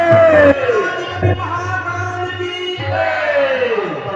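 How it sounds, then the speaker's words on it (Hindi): Devotees at a Gayatri temple yagya raise a loud collective victory cheer with hands held high, a close, full-throated burst of voices that swells and fades in waves. "आइए फिर संकीर्तन से पहले सब लोग दोनों हाथ ऊपर करके जयघोष करेंगे।"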